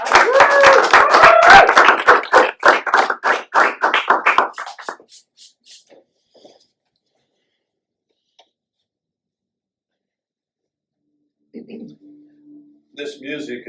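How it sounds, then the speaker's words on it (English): An audience gives a round of applause, a burst of clapping mixed with a few voices that thins into scattered claps and fades to silence, followed by brief faint sounds near the end. "So everybody give Phil a great big round of applause."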